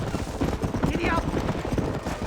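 A horse gallops in the Red Dead Redemption video game with fast, rhythmic hoofbeats that stay loud and continuous throughout. A rider's voice calls out over the pounding.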